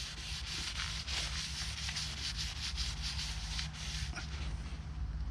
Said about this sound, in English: I'm just going to wipe where the WD-40 was